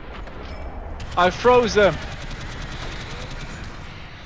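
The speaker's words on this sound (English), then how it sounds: "Yeah, I'm shooting." Sustained gunfire in the video game Alien Swarm, a fast steady rattle running under the whole stretch while a player's voice speaks briefly over it.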